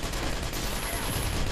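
Dense gunfire and explosions from the Toy Soldiers War Chest video game, a continuous loud crackling barrage with no clear gaps over the short stretch.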